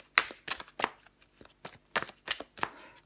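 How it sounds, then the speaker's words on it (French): Tarot cards being shuffled and drawn by hand, a run of crisp riffling slaps and flicks in an irregular rhythm, close and fairly quiet with no voice. "je prends encore une carte pour vous"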